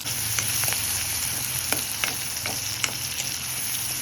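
Green chilies sauté in an Italian kadai for a dry fish curry, giving a continuous, even sizzle with scattered light scrapes of a spatula stirring through it.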